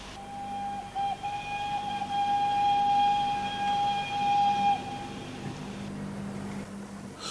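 A Bachmann model tank engine on a model railway sounds one long, steady, high whistle that holds for several seconds and then stops, over a low background hum.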